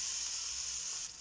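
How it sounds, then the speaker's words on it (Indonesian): Spice paste hisses and sizzles in hot oil over a low flame, a steady, close, bright frying noise that eases slightly at the end, with no voices. "Kita tumis."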